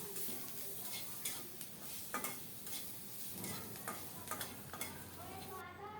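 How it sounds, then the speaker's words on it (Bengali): Nigella seeds (kalo jira) crackle and sizzle in hot oil while being stirred, with scattered sharp pops and a steady frying hiss throughout. "অল্প একটু তেল দিয়ে দেড় চা চামচের মতো কালো জিরা দিলাম কালো জিরাটা নেড়ে ছেড়ে একটু ভেজে নেব"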